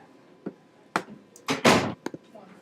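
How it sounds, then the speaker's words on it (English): A classroom door is shut, a firm thud among a few knocks and shuffles, with brief speech around it. "Can you shut the door behind you, please?"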